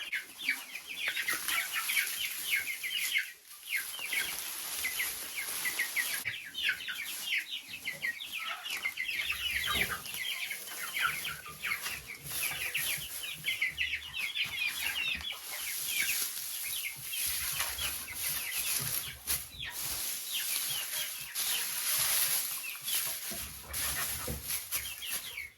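Hens and a rooster in a backyard coop during cleaning, many birds clucking and squawking at once in a loud, steady, close commotion with no talk.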